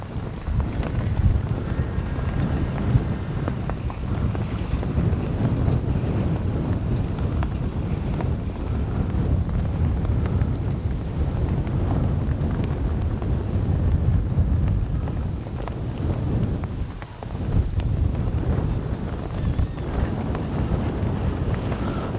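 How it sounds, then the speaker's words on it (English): Wind buffets the microphone outdoors at a model plane flight in a steady low roar, rising and falling in gusts for the whole stretch, with no voices. "It is windy."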